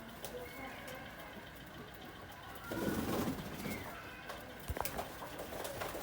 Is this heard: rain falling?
no